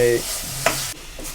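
Rice and masala tipped into a hot pan of avarekalu bath and stirred, giving a close, steady sizzle with a short scraping stir partway through, no voices.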